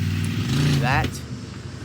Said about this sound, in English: there goes a loud truck